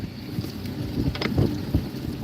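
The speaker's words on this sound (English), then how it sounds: "Too damn windy." Gusty wind buffets an open-water fishing spot near a boat, a steady low rumble of microphone wind noise with a few stronger bursts, no talking.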